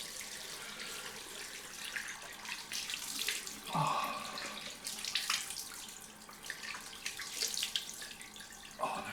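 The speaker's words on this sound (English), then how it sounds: "so let's just run this water" Cold water runs from a tap into a sink during a rinse after a shave, a steady close splashing stream that shifts in tone as hands move through it, with no talking.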